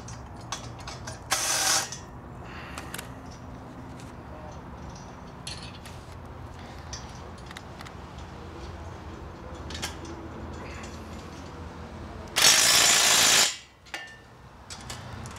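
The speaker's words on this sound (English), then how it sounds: "You got your Allen wrench, hold it on the back side" An Allen wrench tightens a bolt on a 460GN swing assembly with repeated ratcheting mechanical clicks, close and moderately loud, broken by two bright harsh bursts of grinding or scraping, one short early and one longer near the end.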